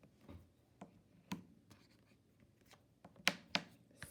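A pencil writes a word by hand on paper, producing soft scratchy strokes and light taps that come in short irregular bursts, close and faint.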